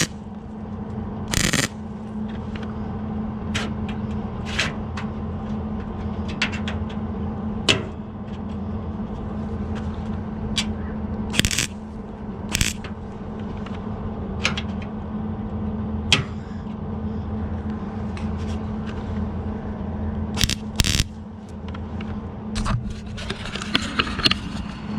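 Sharp intermittent crackling bursts of tack welding on a rust repair patch panel fitted to a Chevelle, about a dozen short zaps spaced irregularly over a low steady hum, close and fairly quiet.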